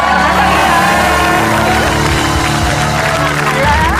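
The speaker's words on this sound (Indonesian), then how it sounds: "berikan tepuk tangan yang meriah untuk" A studio audience at an Indonesian television game show applauding and cheering a guest, loud dense clapping with whoops and shouts, continuous and close throughout.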